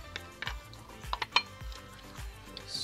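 Chickpeas tipped into a pot of long-simmered veal stew with softened vegetables, giving a few soft thuds and light clinks of metal and utensils against the pot, close and fairly quiet.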